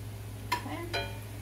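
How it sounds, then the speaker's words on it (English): A spoon striking sliced meat in a pan, two short close scraping taps about half a second apart over a low steady hum, quiet overall. "now when I just hit it with the spoon, it breaks up really nice and easily in the pan"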